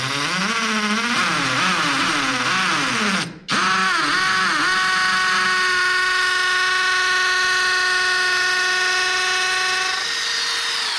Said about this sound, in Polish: spróbuję tą wiertarką, wkrętarką ustawię na udar. Zobaczę, czy da radę wywiercić te otwory